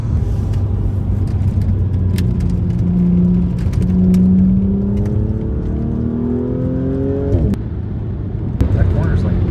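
A Mercedes sports car accelerates hard from inside the cabin, its engine note climbing steadily in pitch through the gears with a shift near the end, loud and continuous, with occupants talking over it.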